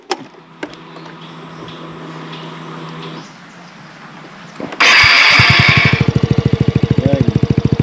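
A motorcycle with an adjustable exhaust valve set to open cranks and starts, then settles into a loud, close, throbbing idle with rapid, evenly spaced exhaust pulses.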